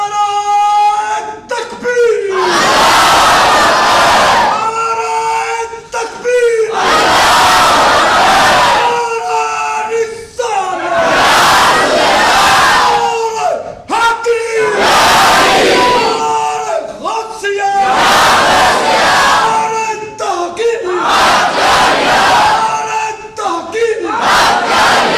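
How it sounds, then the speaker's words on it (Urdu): A large crowd at a religious gathering shouts the Takbir slogan in loud, repeated call-and-response bursts, about six rounds of massed voices separated by brief pauses. "ہون لا نعرہ تکبیر تے پھر سارے نعرے لا"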